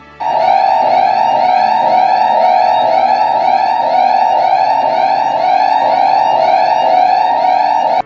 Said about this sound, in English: Gas leak alarm.